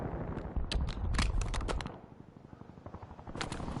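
A nail gun fires in Call of Duty Warzone as a rapid burst of sharp, loud cracks, followed by a quieter lull and then a final short burst of shots.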